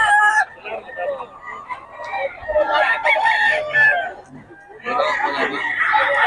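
A Boston sweater gamefowl rooster crows several times close by, its long strained calls rising and breaking amid clucking from other birds and someone talking over the yard.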